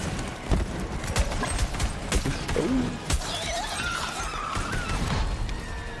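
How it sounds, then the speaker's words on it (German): A dense, chaotic burst of crashing, shattering explosions in the video game Borderlands 3, with sharp bangs repeating every second or so over a constant rumble of game noise. "das explodiert ja alles"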